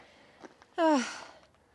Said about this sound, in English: Excuse the heavy breathing in the side there.